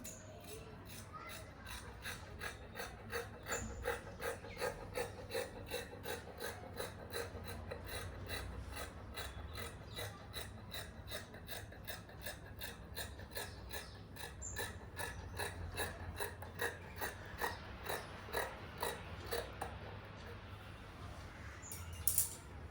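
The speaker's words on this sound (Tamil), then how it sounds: "நான் ஃபர்ஸ்ட் வந்து சர்க்கிள் பார்ட் நான் கட் பண்ணிடுறேன்" Scissors cut the curved circle section of dress fabric, a faint, close run of quick regular snipping strokes repeated steadily throughout with no one talking.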